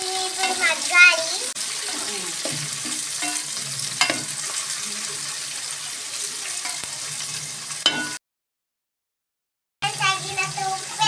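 Onions and tomatoes cook in a pan, giving a steady sizzle with scraping stirs and clinks for most of the stretch. The sound cuts out briefly near the end, then the cooking noise returns.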